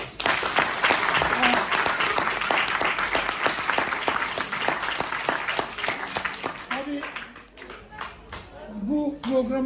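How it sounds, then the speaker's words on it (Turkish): An audience at a school religious-night event applauds performing students, sustained clapping that thins out toward the end as voices begin speaking. "Onlar için de bir alkış alalım"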